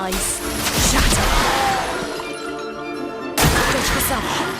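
An ice shattering attack in the video game Clair Obscur: Expedition 33 sounds as a loud, dense burst of breaking and crashing that drops off briefly near the end, then strikes again with a sharp crack.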